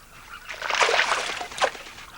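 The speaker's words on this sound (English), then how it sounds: "When Mr. Giant Kingfisher leaves his cave, he first dives headfirst into the water." A giant kingfisher dives headfirst into water, giving a short, close splash and slosh that swells and fades, followed by a brief second splash.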